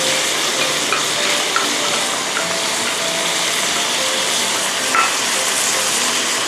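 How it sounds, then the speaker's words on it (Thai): Onion stir-fried in a pan for a seafood chili paste gives a loud, steady sizzle with occasional scrapes and clinks of the utensil, close and continuous with no talking. "ผัดให้หอมใหญ่สุกเล็กน้อยก็พอนะคะ"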